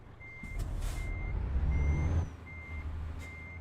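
A truck's reversing alarm beeps at a steady interval over a low engine rumble, with a brief hiss of air partway through, in the game Euro Truck Simulator.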